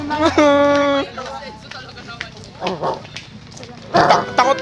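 A dog barks a few times amid lively chatter and voices, the barks sharp and fairly close, mixed in with talk.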